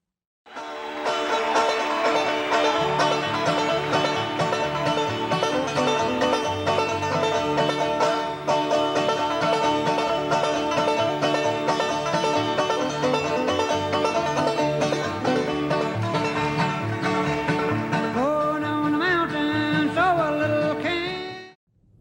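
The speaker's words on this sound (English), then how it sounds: "Clawhammer is an awesome way to play banjo." Banjo played clawhammer style, a dense, bright run of plucked and brushed strings in a steady driving rhythm, with slides near the end before stopping abruptly.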